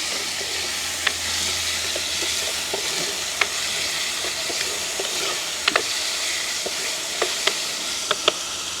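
Tuna fish curry with tomato being stirred in a pan over a village cooking fire, a steady hissing sizzle broken by sharp scrapes and taps of the spoon against the pan at irregular intervals.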